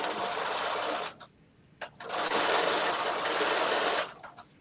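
A noisy sewing machine in need of servicing, running in loud, close bursts of a second or more with brief pauses between them, stitching alone without talk.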